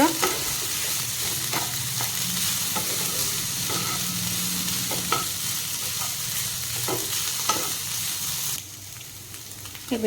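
Sweet corn sizzling loudly in a hot pan with crushed black pepper and chaat masala, a spoon stirring through it with steady scraping and occasional clinks under the continuous close frying hiss.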